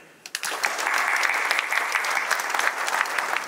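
Applause for staff at the Var Chamber of Commerce's 190th anniversary event, bursting in after a brief pause and holding as a loud, dense, steady clatter of many hands.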